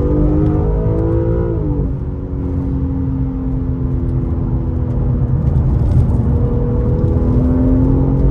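A car accelerates hard on a dangerously slippery road with traction control working, its engine droning loud and steady for the whole stretch and its pitch shifting as the revs climb.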